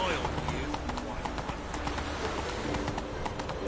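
Horse hooves clip-clop steadily in The Witcher 3 video game as the horse moves along, a continuous rhythmic patter mixed under voices and game ambience.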